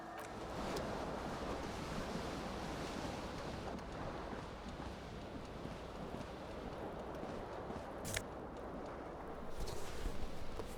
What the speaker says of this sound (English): The cool wind gushes in.